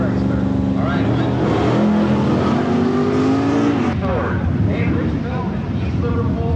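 A 1964 Plymouth Belvedere drag car with a 440 Chrysler engine roars loudly and continuously, its pitch rising and falling as it revs, with an announcer talking over it.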